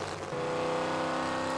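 A 2,000 horsepower pro mod Camaro SS drag car at a drag racing event, its engine giving a loud, sustained, steady roar throughout.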